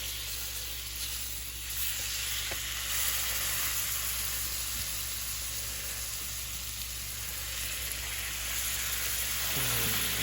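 Steaks frying in melted butter over low heat give off a steady, even sizzle that holds at a constant level from start to finish, with no voices over it.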